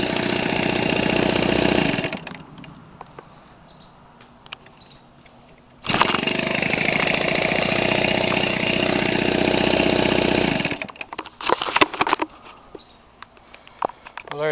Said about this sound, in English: 15cc weed eater.